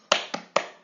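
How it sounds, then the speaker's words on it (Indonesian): Three sharp claps from a class doing an economics clapping chant, quick and unevenly spaced, each with a short decay, close and clear with no talking. "kita tepuk ekonomi dulu yuk."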